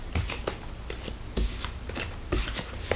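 Tarot cards being shuffled by hand in bursts of crisp riffling and slapping, close and fairly loud, with short pauses between rounds and no talking.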